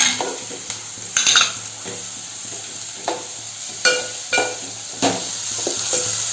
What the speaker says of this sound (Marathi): मसाले चांगले फ्राय करायचे आणि त्याच्यामध्येच आहे ना हे वाटप टाकायचं.